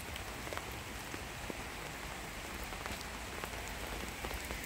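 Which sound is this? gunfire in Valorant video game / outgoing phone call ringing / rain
rain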